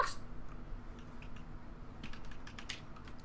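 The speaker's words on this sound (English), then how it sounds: "You can hear the click clack on my keyboard" A PC computer keyboard clicks during a Fortnite Battle Royale session, scattered clacks that build into a quick flurry of keystrokes toward the end, close and clear with no talk.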